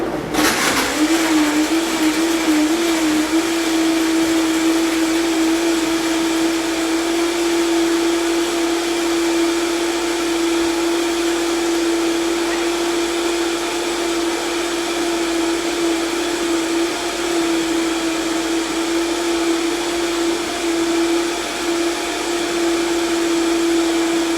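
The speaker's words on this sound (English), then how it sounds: "So I'm gonna run this to the blender and produce some hemp milk." A blender runs steadily and loudly for the whole stretch, processing hemp seeds with lemon into hemp milk, its motor whine holding constant after a brief start-up and no voices over it.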